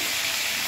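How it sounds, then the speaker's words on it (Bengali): Onions, four medium ones, frying in oil for a chicken kurma, giving a steady, loud, even sizzle with a broad hiss that carries on unbroken with no voices over it. "এবার এই তেলে পেঁয়াজটা আগে একটু ভেজে নেব।"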